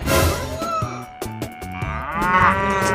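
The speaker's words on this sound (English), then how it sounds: "Cow." A cartoon cow in a kids' animal video gives a long, drawn-out moo that rises toward the end. It sounds loud and close over a bouncy musical backing.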